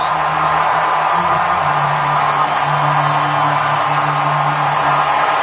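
A baseball crowd roars in a steady, dense wall of cheering after Kershaw's strikeout call, loud and unbroken throughout with no distinct voices standing out.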